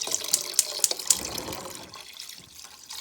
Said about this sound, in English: I'm gonna add 2 cups of water